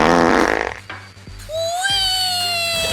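A comic prank in which one man farts on another: a loud, noisy blast opens, fades into a brief lull with small clicks, then a rising squeaky tone lingers to the end.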